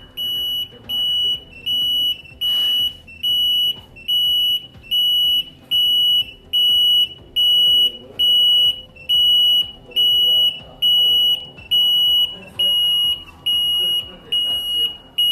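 An intermittent electronic buzzer tested at different voltages beeps loudly and shrilly in a steady on-off rhythm, about sixteen even pulses in a row with short gaps between them.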